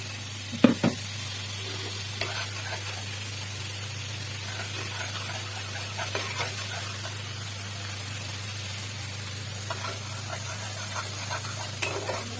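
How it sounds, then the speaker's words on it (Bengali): Bhola fish sautéing in a pan gives a steady, soft sizzle, with occasional stirring clinks and scrapes and no talking. "ভালো মতো এইভাবে কষিয়ে নিচ্ছে একটু মাছটা"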